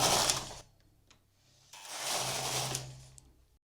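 A knitting machine carriage swept across the bed for two rows, two separate mechanical whirring passes with a pause between them, close and unaccompanied.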